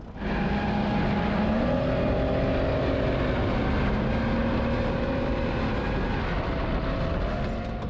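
A loud engine roars steadily throughout, a deep droning hum with shifting pitch, close and continuous without any talking.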